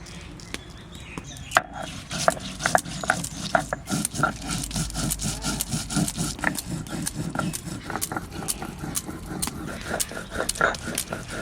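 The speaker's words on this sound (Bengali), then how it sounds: "দুই পট রসুন একটু আদা কাঁচা লঙ্কা শুকনো লঙ্কা একসঙ্গে বেটে নিচ্ছি" Garlic, ginger, green and dried chillies are being ground together on a stone for a Bengali-style cabbage kofta curry, giving a steady rhythmic grinding and scraping that runs throughout, close and moderately loud.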